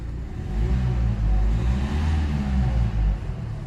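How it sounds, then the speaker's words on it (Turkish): A 2015 Renault Kadjar with the 1.5 dCi diesel engine revs in short repeated bursts, a loud, close, low rumbling drone that rises and falls with no one talking. "gazlama."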